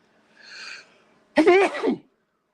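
One person sneezes: a soft intake of breath, then a sharp, voiced sneeze burst up close, with nothing else around.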